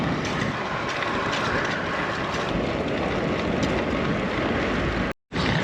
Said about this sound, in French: Léger vent de face.